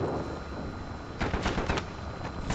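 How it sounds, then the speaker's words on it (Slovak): Gunfire in the video game Warzone, a quick run of sharp shots in bursts about halfway through, sounding distant over a background hum, with no talk. "Aha, strieľa ma."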